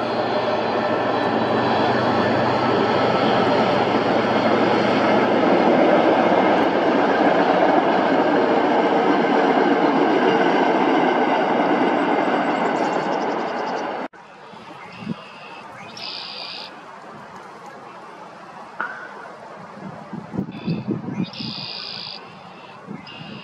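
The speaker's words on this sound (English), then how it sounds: "Here comes the train." A loud, steady rumbling roar of a passing train fills most of the clip, then cuts to quieter outdoor ambience with brief sounds.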